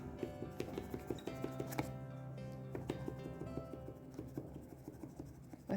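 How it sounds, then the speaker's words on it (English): A serrated knife saws around the edge of a pumpkin pie, giving soft, quiet scraping and tapping strokes in an irregular rhythm close to the microphone. "trim around with a serrated knife"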